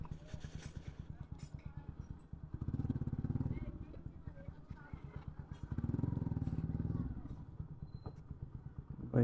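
A Bajaj Pulsar NS160 motorcycle engine putters at idle, rising in two brief revs before settling and stopping, close by with some background voices.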